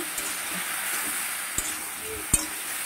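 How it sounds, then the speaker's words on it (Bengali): Vegetables with spices fry in a pan, giving a steady close sizzle and hiss throughout, punctuated by a couple of sharp stirring scrapes and knocks. "ভালো করে এবার সবজিগুলোকে ভেজে নেব।"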